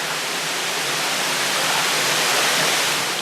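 Heavy rain pouring down near a lake on the Panama Canal: a steady, dense, loud hiss of falling water, constant throughout with no break and no voices.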